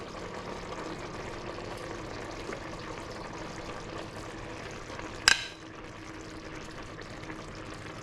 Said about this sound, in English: So I'm going to add the cod,